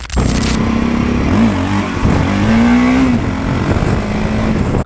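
A motorcycle engine pulls hard from low revs, its pitch climbing, dipping and rising again as it accelerates loud and close, steady engine roar throughout.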